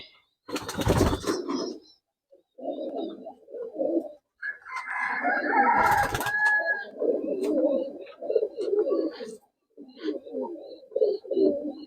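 Close, repeated low cooing comes from Murshidabadi tumbler pigeons in a loft, in several phrases separated by short gaps, with louder handling or flapping bursts and a higher call in between.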